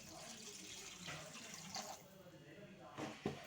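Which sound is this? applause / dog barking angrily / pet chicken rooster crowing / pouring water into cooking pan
pouring water into cooking pan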